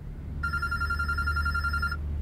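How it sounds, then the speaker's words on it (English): A telephone rings in the video game Road 96, a steady electronic trill holding for about a second and a half over a low background hum, with no talking. "The phone is ringing."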